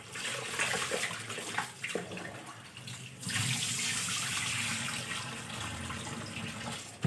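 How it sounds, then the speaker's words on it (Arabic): Rice is rinsed under a running tap, water splashing steadily into a bowl with a brief dip midway before the flow surges back and continues evenly, moderately close. "انا دلوقتي بغسل الرز اهو"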